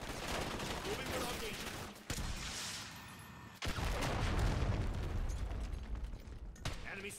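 Gunfire in the multiplayer video game Black Ops 6, with loud close bursts of automatic fire and shots over a dense, noisy battle bed, broken by two sudden cutoffs, with no talk.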